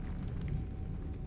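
Depulso force-push spell cast in the Hogwarts Legacy video game, a low, rumbling magical burst that holds steady for about a second with no voices over it.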